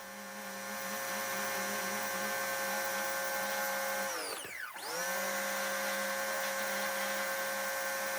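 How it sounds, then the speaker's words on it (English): A pressure washer cleaning dirt off a brick wall hums with a steady motor drone, dipping briefly in pitch and then recovering midway, heard alone and fairly close. "So I got the pressure washer back just to kind of clean the dirt off."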